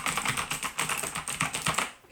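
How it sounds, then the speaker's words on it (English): Fast, rhythmic clacking comes from typing on a Razer BlackWidow Ultimate Chroma mechanical keyboard, with loud, close, crisp clicky keystrokes in quick steady succession and no talking. "It makes the nice clicky noise that we have all been accustomed to from older keyboards"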